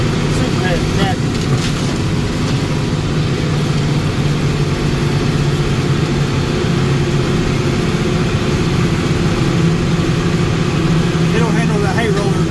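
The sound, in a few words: heavy farm tractor engine idling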